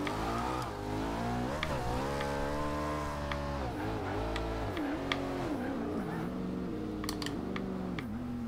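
A 2011 McLaren MP4-12C in the racing game Forza Horizon 2 accelerates hard, its engine note climbing and dipping through gear changes in a steady, loud drone with a few faint clicks.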